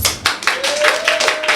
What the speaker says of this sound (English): Clap it up if you're not from Atlanta.